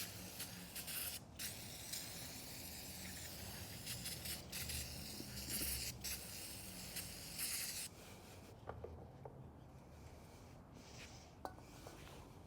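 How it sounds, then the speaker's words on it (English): An aerosol spray can hisses into a transmission around the input shaft bearing in a few sustained bursts, fairly close, with faint workshop clinks as it stops. "All right, spray that out."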